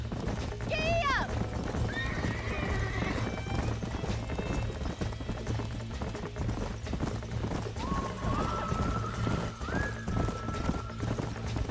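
In the Red Dead Redemption game, horses gallop in a steady, close drumming of hoofbeats. Several sharp whinnies and neighs rise above the hooves over a busy background.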